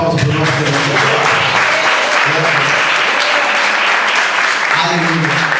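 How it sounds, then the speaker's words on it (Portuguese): A church congregation claps in sustained, dense applause that fills the space loudly throughout, with voices calling out over the clapping. "Dá uma salva de palmas para o nosso Deus."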